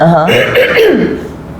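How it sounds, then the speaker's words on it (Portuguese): A loud, close throat clearing, a rough voiced rasp lasting about a second before trailing off. "eu tô com pigarro"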